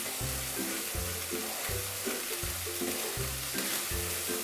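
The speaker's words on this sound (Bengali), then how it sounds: "অল্প হলুদের গুঁড়ো, 1/2 চামচ ধনে গুঁড়ো, ভালো করে কষিয়ে নেব।" Turmeric, coriander and chilli powder frying in a pan for a drumstick malai curry, a steady close hiss of sizzling throughout, with a repeating musical backing playing underneath.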